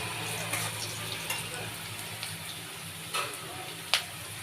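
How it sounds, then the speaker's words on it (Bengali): Onions frying in a pan for potato paratha make a steady, fairly quiet sizzle with occasional soft stirring scrapes and clicks, and no talking. "এই যে দেখতে পাচ্ছ পেঁয়াজটা ভাজছি।"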